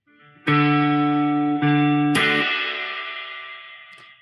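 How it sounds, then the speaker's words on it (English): Electric guitar chords played through the spring reverb of an Oceans 11 pedal, two sustained chords then a bright strike that rings out in a shimmering wash fading over about two seconds. "We'll just go X on time with the spring reverb."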